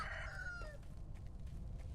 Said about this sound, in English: I wonder how far the rooster is willing to go, because it followed us for the headless fight.